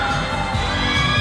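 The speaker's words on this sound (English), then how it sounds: "The crowd loves Shane Cortez, as you can hear" Dense arena crowd noise at a 1995 pro wrestling event, a steady wash of cheering and shouting that fills the whole moment without a break, loud and close, with no clear voice rising above it.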